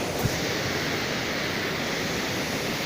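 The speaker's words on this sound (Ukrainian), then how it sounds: "там наче якийсь монстр проривається, то там камінь так б'ється" Swollen Carpathian river in flood surges over rocks, a loud, unbroken broadband roar of rushing water close by, steady for the whole stretch with no voices.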